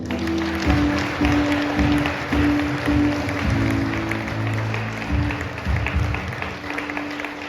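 Church congregation applauds and acclaims the Lord, a sustained crowd clapping under loud voices and sung or shouted tones, fairly close and continuous throughout.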